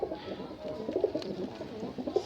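Pigeons cooing inside a shop selling Malwai pigeons, a soft, continuous layered murmur of several birds close by with no talking.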